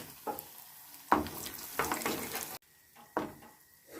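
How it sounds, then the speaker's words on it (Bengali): Bori lentil dumplings fry in oil in a pan, with a soft sizzle underneath several distinct scrapes and stirring knocks of a utensil against the pan, spaced irregularly and heard up close. "বড়িগুলো সব ভাজা হয়ে গেছে"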